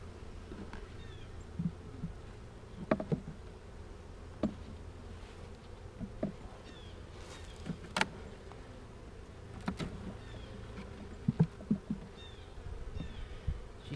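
Honey bees hum softly in an opened hive brood box holding a very small cluster, a faint steady drone broken by scattered close clicks and knocks of handling.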